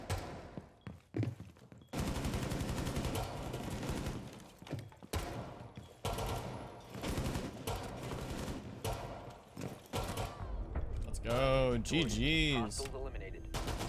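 Rainbow Six Siege gunfire, loud bursts of automatic and tapped shots running through most of the stretch, with a voice talking over parts of it.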